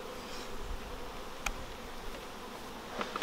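Honey bees buzz continuously in a dense, quiet swarm during a honey harvest, with a couple of faint clicks along the way.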